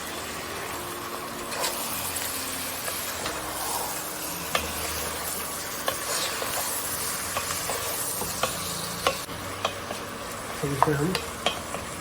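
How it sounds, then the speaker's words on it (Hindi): Mutton is sautéed with onions in a pot, giving continuous sizzling and frying hiss with repeated stirring scrapes and clinks, fairly faint, with a few soft spoken words near the start. "इसमें अब हम हमारा गोश्त डाल देंगे। और गोश्त डालने के बाद हम इसकी अच्छे से भुनाई करेंगे।"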